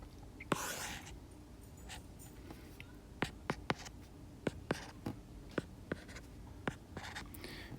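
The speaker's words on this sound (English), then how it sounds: "I'm going to draw a different graph." A marker drawing a graph on a board, with short squeaky strokes and taps in an irregular rhythm, close and fairly quiet, with no one speaking.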